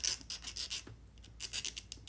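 Metal file rasping off burrs in quick, uneven back-and-forth strokes, soft and close with a short pause midway.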